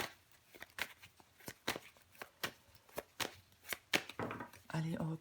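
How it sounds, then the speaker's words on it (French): Tarot cards being handled and laid out on a table, a steady series of crisp flicks and slaps about every half second, close and soft, with a voice at the end. "Je vais bien évidemment recouvrir des cartes pour vous"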